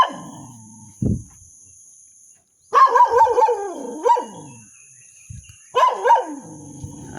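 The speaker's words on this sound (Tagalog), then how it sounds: "Aso tol. Katakot tol. May alagang aso tol." A pet dog barks close by in a few separate bursts of sharp, yelping barks, some drawn out almost into a howl, with quiet gaps between them.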